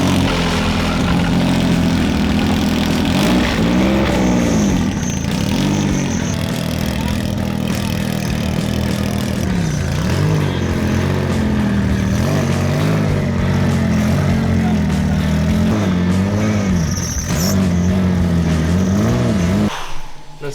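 A loud Nissan Z drift race car engine revs up and down repeatedly in rising and falling sweeps, close by and continuous, cutting off abruptly at the end.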